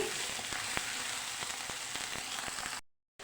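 Cauliflower curry fries in oil in a pan, a steady close sizzle with scattered pops and crackles, ending in a short silence and then a brief return of the sizzle.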